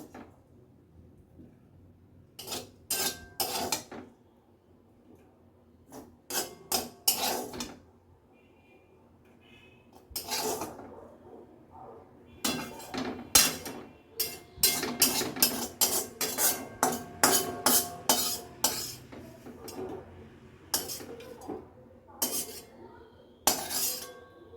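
Steel plates and utensils clink and clatter in a home kitchen as fried bitter gourd and potato is served onto a plate, with scattered sharp bursts that bunch into rapid runs of clatter, and no talk.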